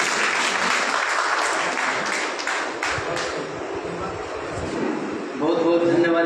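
An audience at a Ramlila committee meeting in Ara, held at a residential school, claps together in a sustained burst of applause lasting several seconds. A voice rises over the clapping near the end.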